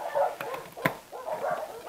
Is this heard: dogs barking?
yes